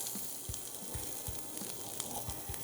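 Minced onions sizzling in hot vegetable oil in a pan, a steady close hiss with a few soft taps from stirring, no talking.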